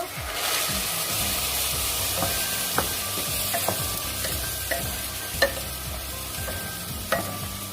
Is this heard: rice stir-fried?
yes